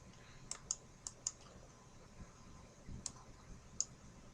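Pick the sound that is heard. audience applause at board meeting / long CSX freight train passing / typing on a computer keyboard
typing on a computer keyboard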